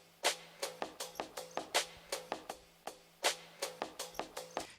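A short drum loop taken from the opening of a song, with the bass rolled off, repeats crisp snare and hi-hat hits in a steady sampled groove, fairly quiet and thin.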